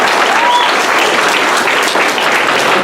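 Steady, dense applause from a board meeting audience fills the room at a constant loud level throughout, with no pauses.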